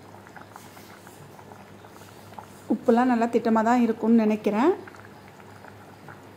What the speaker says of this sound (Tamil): இப்போ நல்லா கொதிக்குது பாருங்கள், நல்லா கொதிக்குதா?